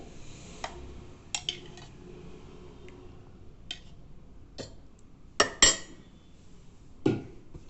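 A spoon scoops curd into a dish while preparing Maharashtrian curd rice, with sparse clinks and taps of metal against the bowl at irregular intervals, close and fairly quiet, with no talking.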